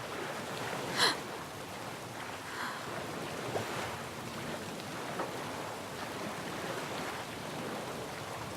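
Wave-like water rolls and washes steadily across a river in The Witcher 3 at night in the rain, sounding more like ocean surf than a flowing current, with a soft gust near the start.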